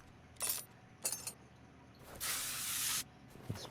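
Cleaner sprayed onto a car part in the Car Mechanic Simulator 2021 video game: two short hissing spray bursts followed by a longer sustained spray of about a second, then a faint click, with no talking.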